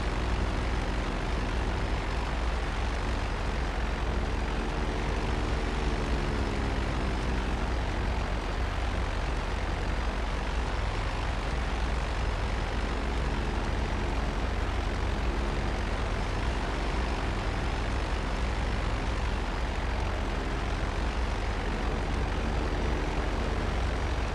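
A stalling airplane's engine in GTA Online drones on as a steady, loud propeller-engine hum with a faint wavering pitch, continuous throughout with no voices.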